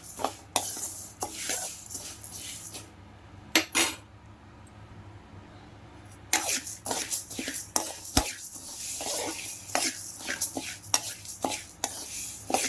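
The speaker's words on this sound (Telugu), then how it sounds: "లో టు మీడియం ఫ్లేమ్లో వేయించుకోండి" Dry sambar powder spices and lentils roasting in a pan over low to medium flame, stirred with a utensil that makes repeated scraping and clinking against the metal, close and fairly loud, with a short quiet pause partway.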